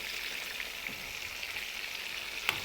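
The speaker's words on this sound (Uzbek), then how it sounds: "Aralashtirib, yana bir marta qovurib olamiz." Food fries and is stirred in a pan while making chuponcha, giving a soft, steady sizzle with faint scraping and one small clack near the end, low in level and with no talk.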